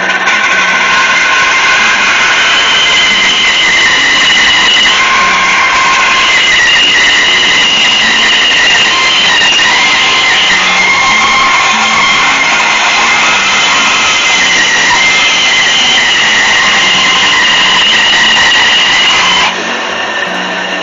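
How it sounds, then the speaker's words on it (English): A bandsaw fitted with a fine trim blade runs steadily through wood, giving a loud continuous whining hum with little variation, then stopping abruptly near the end. "my bandsaw adjusts just enough that I'm able to cut that depth"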